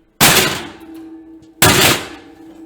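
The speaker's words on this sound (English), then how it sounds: "So let's bang them." A metal baking pan of chocolate chip cookies is banged down twice on a counter, two loud, sharp clanging impacts about a second and a half apart, each ringing out briefly.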